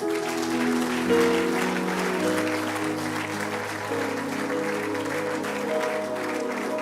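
Congregation at a Sunday church service applauding, a continuous wash of clapping mixed with sustained musical tones from keyboard or singing underneath, fairly loud and steady.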